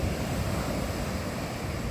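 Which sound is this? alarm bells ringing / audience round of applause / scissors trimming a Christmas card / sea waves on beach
sea waves on beach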